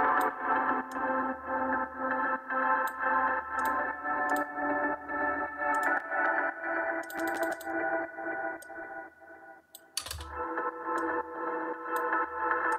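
A distorted, filtered Tronic pluck synth in a moody house beat, sidechained so the gritty tone pumps in a steady rhythm with sharp percussive clicks and a brief dropout near the end.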